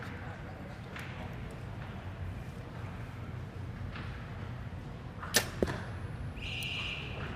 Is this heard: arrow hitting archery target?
yes